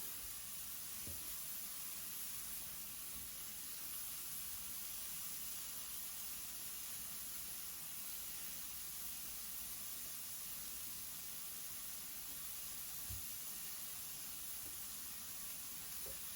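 Beef and potatoes searing in a pan, a steady broad sizzle and hiss that holds evenly throughout, fairly faint, with a couple of soft knocks and no talk.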